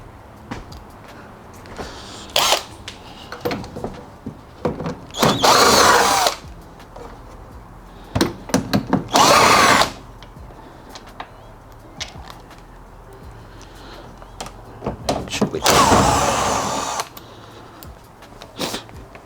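A power drill removes screws from the lid of an Electrolux Zanussi dryer, with three separate loud whirring bursts of a few seconds each, spaced apart and close up, amid small clicks and handling noises.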